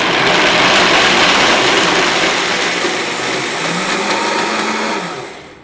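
A Vitamix blender whirs loudly and steadily while blending thick avocado brownie batter, its motor pitch dipping slightly partway through before it cuts off near the end.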